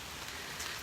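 Rain falling over a garden with standing water and squash plants, a soft continuous wash of drops, faint and even with no voices.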